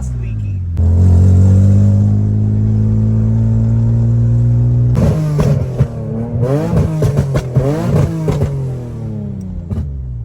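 A car fitted with a used VQ engine exhaust that has an exhaust leak drones at a steady idle, then revs in a rapid series of sharp blips, loud and close, with people talking.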